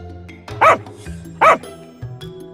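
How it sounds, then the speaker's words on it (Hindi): A dog barks loudly twice, two sharp close barks about a second apart over a quiet background. "तभी एक कुत्ता जोर से भौंकता है"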